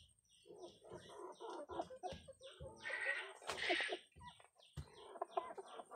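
Tiger chickens kept as egg-laying hens, clucking and calling busily and continuously among overlapping farmyard noise, fairly quiet and at moderate distance.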